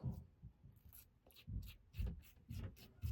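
Close, quiet rasping strokes of an H2C Hybrid safety razor scraping across stubble, repeating in a steady rhythm of short passes.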